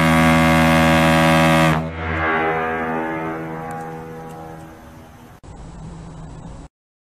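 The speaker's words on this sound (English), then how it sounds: "played a loud foghorn, and scared me half to death" A loud, deep foghorn blast sounds for nearly two seconds, then a rushing noisy rumble follows and slowly fades before cutting off abruptly.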